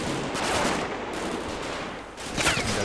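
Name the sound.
machine gun fire in Combat Mission video game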